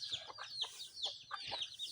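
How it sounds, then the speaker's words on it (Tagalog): Scattered chicken clucks, soft and a little distant, several birds calling irregularly over faint background noise. "nagkalat na naman yung mga alaga kong manok"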